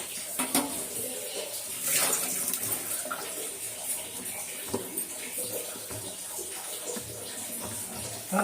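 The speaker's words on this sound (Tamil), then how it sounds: "குழம்பு நல்லா கொதிக்கிட்டோம்." Steady bubbling and sizzling of fish curry boiling in a pot on the stove, with a continuous watery hiss and occasional louder pops and clinks.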